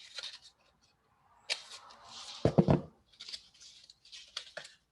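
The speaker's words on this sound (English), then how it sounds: "you snip the bottom parts" Scissors snipping the bottom of a paper column in a STEM building activity, several short quiet cuts and crinkles spaced apart with one fuller rustle in the middle.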